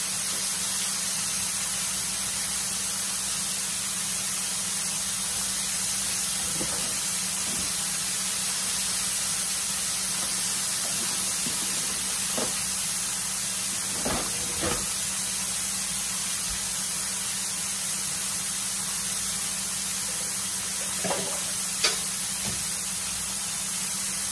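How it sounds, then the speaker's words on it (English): Steady loud hiss and crackle of pollock fish frying in hot grease, continuous throughout with occasional soft pops and clicks. "This grease is hot, so it's just like deep frying it."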